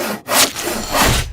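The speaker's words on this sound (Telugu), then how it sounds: "రంపంతో ముక్కలు ముక్కలుగా కోసి" A saw cuts a felled tree trunk into pieces with rough, rasping strokes that pause briefly, then grind on, loud and close.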